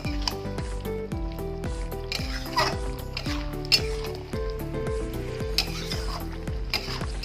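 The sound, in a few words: stirring drumstick and potato chorchori in a pan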